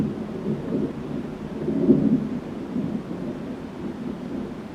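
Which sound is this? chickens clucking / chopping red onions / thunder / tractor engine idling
thunder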